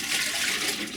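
Rinse water is poured out of a basin during foot care, making a steady, continuous splashing gush for about a second. It is fairly close, and no one talks over it.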